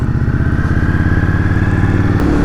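Close, loud Indian Scout Bobber motorcycle engine pulsing steadily as it accelerates, its rumbling beat rising in pitch and ending with a brief shift in tone.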